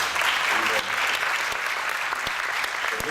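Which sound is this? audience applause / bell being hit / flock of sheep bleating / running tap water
audience applause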